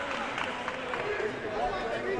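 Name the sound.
basketball game crowd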